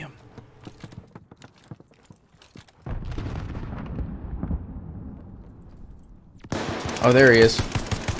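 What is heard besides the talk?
gunshots in Call of Duty Vanguard video game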